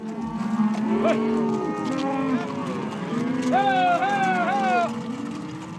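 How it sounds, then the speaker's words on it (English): Cattle moo repeatedly during a cow roundup on a ranch near the Oregon-Nevada border, with several long, loud lowing calls overlapping one another outdoors. "Nick Wilkinson is rounding up cows on his ranch near the Oregon-Nevada border"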